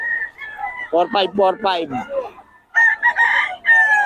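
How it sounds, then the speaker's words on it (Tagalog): Loud gamecock rooster crows ring out close by, with more chickens calling in the background and someone speaking briefly between them. "Ito na mga manok niya, oh."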